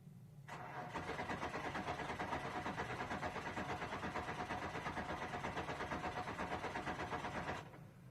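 A race car engine cranks and catches at Nashville, then runs at a steady, loud idle with a fast, even pulsing. It holds for several seconds before cutting off abruptly near the end.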